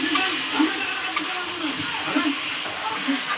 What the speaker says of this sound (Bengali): আলুটা দিয়ে একটু কষে নিই।